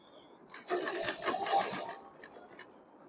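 A sewing machine stitches a small doll dress in a fast, close run of rapid mechanical clatter lasting over a second, then slows to a few separate stitches before stopping.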